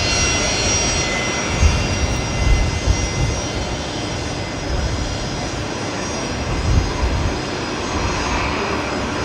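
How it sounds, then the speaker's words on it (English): A Fokker airliner taxis onto a bay close by at Brisbane Airport at night, its engines giving a steady, fairly loud hum and whine with gentle low rumbling swells and no talk. "Oh, we've got a Fokker coming in on the bay in front of me here"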